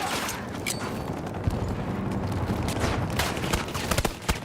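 Video-game gunfire with a grenade blast: rapid bursts of shots crackling at low volume amid a rumbling background, sharper cracks clustering near the end.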